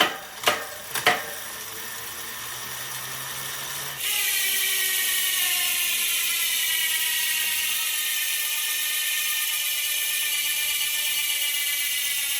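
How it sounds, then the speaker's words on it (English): An AeroHead bicycle wheel spins freely. A few loose clicks come first, then the freehub gives a steady, loud, high buzzing whir that holds for about eight seconds. "But here comes the free body sound test."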